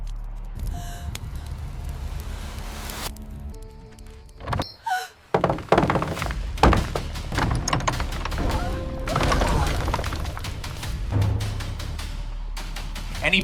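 Heavy, repeated thuds of fists pounding on a wooden door in a dramatized Egyptian scene with Pharaoh's soldiers, loud and close amid shouting and frantic voices.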